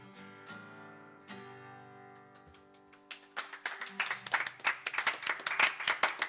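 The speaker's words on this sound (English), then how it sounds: "It's the most applause I've got all week." A sung song ends on held, ringing notes, then an audience breaks into applause that swells from scattered claps to a lively, uneven burst of many hands.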